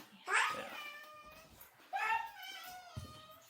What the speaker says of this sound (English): The cats have been spoiled on wet food the last couple days while we were on the trip, so we come in the kitchen and they start yelling for us